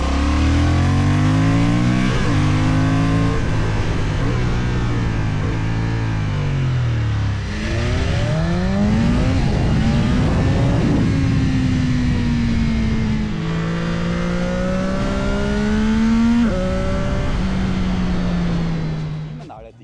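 A loud engine revs repeatedly, its pitch climbing and falling through the gears, close and continuous for the whole stretch.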